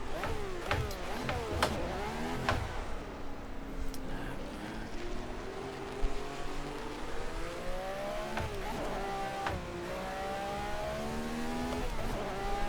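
Ferrari 312 race car engine in a racing video game at Fuji, a loud, continuous engine note that climbs and drops through repeated gear changes and revs, with brief tire squeal and a faint spoken voice underneath.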